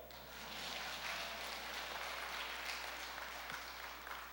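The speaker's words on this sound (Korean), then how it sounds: "이때는 박수 한번 주세요" Faint, steady applause from a church congregation, a soft wash of many hands clapping over a low hum, fairly distant and sustained for a few seconds.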